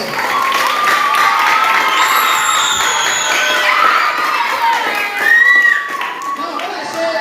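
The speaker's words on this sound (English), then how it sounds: "Please have a clap for our good teacher" School students at a high school in Ibadan clap and cheer for their teacher, a dense continuous wash of clapping with excited shouts and children's voices, loud and sustained throughout.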